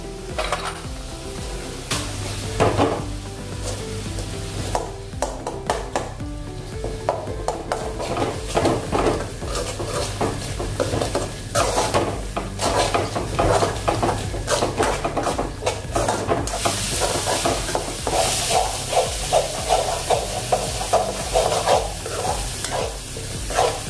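Masala with garlic chutney frying in oil in a pan for Kathiyawadi sev curry, with steady sizzling and repeated spoon stirring and scraping against the pan throughout, close and fairly loud.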